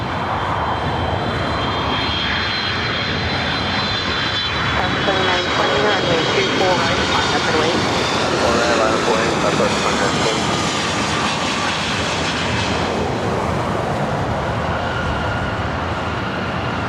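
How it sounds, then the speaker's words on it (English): A Delta jet airliner arriving from Boston lands on runway 24 right at LAX, its engines producing a loud, sustained roar with a whining tone that swells midway, while someone talks over it. "Speaking of Delta, flight coming up from Boston up next,"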